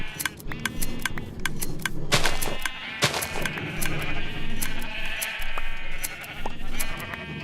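Sheep bleat repeatedly inside a video game wool farm holding many sheep, with overlapping calls at varying distances over a constant busy background, and sharp clicks scattered throughout.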